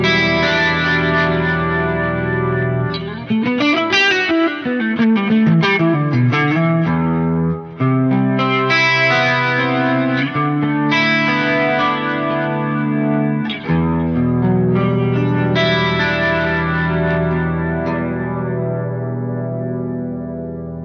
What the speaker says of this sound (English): Now, if I bring in this chorus,